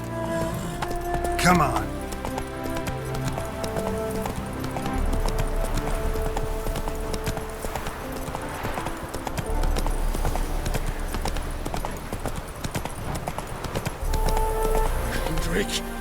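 Roach the horse clip-clopping along in The Witcher 3 game, repeated hoofbeats amid music and ambient game sound, with a voice speaking briefly over it.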